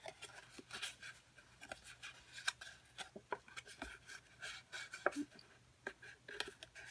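Paper being folded and creased for an origami-style Easter basket, with close, soft crinkling, rubbing and sharp pinching sounds in an irregular rhythm, no talking.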